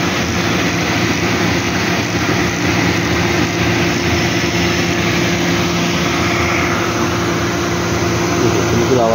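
A mini horizontal-head faceting cutting machine runs with a steady, even motor hum and whir, continuous and fairly loud throughout, with no talking.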